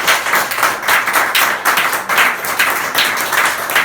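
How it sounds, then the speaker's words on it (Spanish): Congregation at a religious gathering applauding together, a loud dense burst of clapping that stays steady and close throughout with slight rhythmic swells, no speech over it. "Vamos a aplaudir a Jesús."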